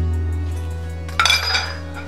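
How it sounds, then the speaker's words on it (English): Small kitchen dishes are shifted across a counter, a quick cluster of clinks and light scrapes over a steady low hum, close and fairly loud, with no one talking. "I'll just move these little dishes out of the way."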